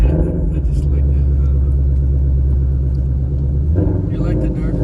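A 2020 Shelby GT350 cruising on a desert road, its engine giving a steady, loud low rumble throughout, with a brief shift in tone near the end as the revs change.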